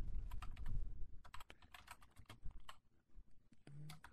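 Computer keyboard typing, with rapid clusters of crisp close key clicks in an irregular rhythm and brief pauses, alone with no talk.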